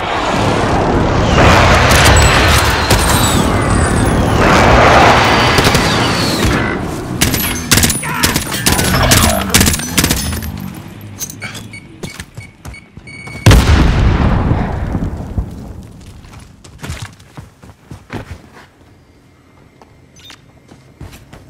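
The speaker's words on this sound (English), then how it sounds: "Be advised, friendly precision airstrike inbound." Precision airstrike explosions rumble and boom across a Call of Duty: Modern Warfare battlefield among dense gunfire and debris clatter, loud and sustained at first, then a fresh heavy blast and scattered cracks fading out.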